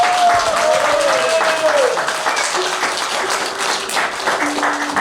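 Audience applause welcoming a musician on stage at an Advent concert in Komárno, steady dense clapping filling the hall throughout, with a held tone sounding over it.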